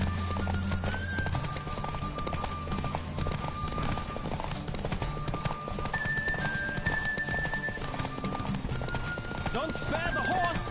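Horse galloping at speed during a race in The Witcher 3, with rapid rhythmic hoofbeats and an occasional whinny, over game music and ambient effects, with a voice talking briefly.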